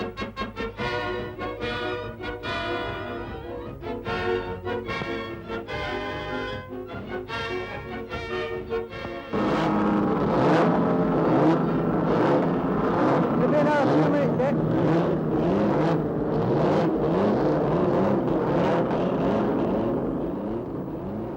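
An Austin 7 Special racing car runs at speed on the Brooklands track, its engine note loud and fairly steady. Partway through, a fuller and busier layer of sound joins it, and it continues to the end.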